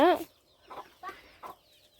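A chicken lets out a sharp cluck, followed by a few softer, spaced clucks nearby.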